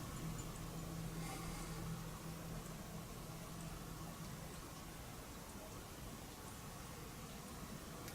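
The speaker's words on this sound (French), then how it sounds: "On entend beaucoup la pluie." Steady rain falling outside at night, a dense continuous hiss of drops on surfaces filling the whole stretch with no talk over it.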